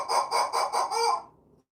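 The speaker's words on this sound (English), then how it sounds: "But I do have a chicken." Pet chicken clucking in a short burst of about five quick, loud, close calls that trail off into silence.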